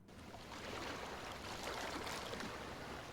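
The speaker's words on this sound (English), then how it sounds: "just sounds like fairly gentle lapping waves" Gentle lapping waves make a soft, steady wash of water ambience at low level, continuous throughout with no voices.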